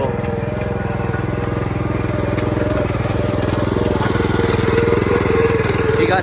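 A small gas engine on a Princess Auto powered wheelbarrow runs steadily at a fast, even idle, loud and close, with a constant rapid putter throughout.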